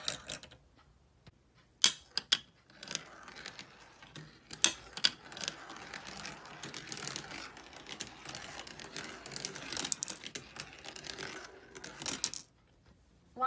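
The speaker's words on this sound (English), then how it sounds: "Let's now look at the marble run in action." A Discovery marble run toy in action, with marbles clicking and rattling along plastic tracks and a lift mechanism ratcheting, producing irregular light clacks and a busy mechanical patter that fades out at the end.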